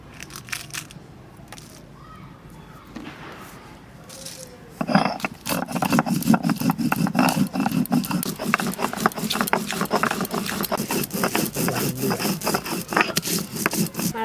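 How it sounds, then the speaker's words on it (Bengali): Black pepper and dried red chillies are ground together into a paste, with steady rhythmic rubbing and scraping close up that starts after a few quiet seconds and carries on with no talking. "গোলমরিচ আর শুকনো লঙ্কা একসঙ্গে বেটে নেব।"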